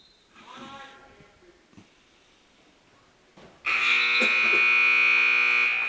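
A loud, sustained electronic buzzer ends a period at a high school wrestling match, cutting in abruptly after crowd noise and a voice and droning on steadily for about two seconds.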